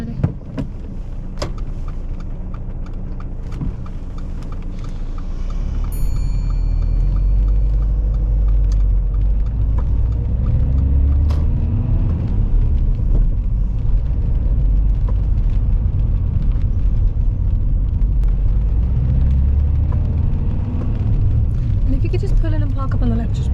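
A car pulls away and drives along a wet road in the rain, its engine and tyre rumble swelling after a few seconds into a steady, close low roar inside the cabin, with a voice speaking briefly.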